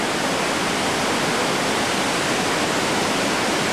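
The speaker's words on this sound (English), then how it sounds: "We stopped here and looked at the rapids." Rushing whitewater of Colorado River rapids in the Grand Canyon, near mile 23 at a 16-foot drop with big holes and heavy water, makes a steady, loud, broadband roar that holds unbroken throughout.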